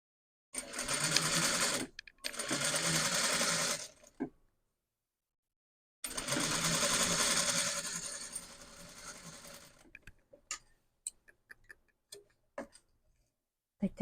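A sewing machine stitches a blouse sleeve in short close bursts of rapid stitching with brief pauses between them. Scattered ticks and clicks follow as the sewing stops.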